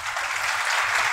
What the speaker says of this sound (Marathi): मी म्हणून संदीप दादांसाठी सर्वांनी एकदा टाळ्या वाजवायच्या आहे.